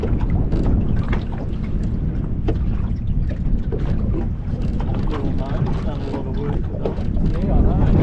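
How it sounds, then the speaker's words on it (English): Strong wind buffets a small boat while anglers fish for redfin perch, hitting the microphone as a loud, constant roar. People talk throughout, partly buried under the gusts. "Oh God, that wind!"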